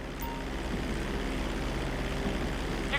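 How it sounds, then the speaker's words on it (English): Steady airplane engine drone in Grand Theft Auto V during takeoff at full throttle, a continuous low hum holding even throughout with no talk. "Hold the throttle all the way down to pick up speed, and pull back on the stick to take off"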